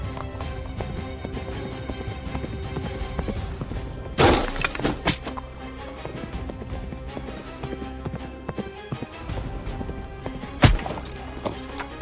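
Galloping horse hooves clip-clop steadily through the game's Hellsplit Arena combat, with heavy thuds and whacks of polearm strikes breaking in around the middle and near the end.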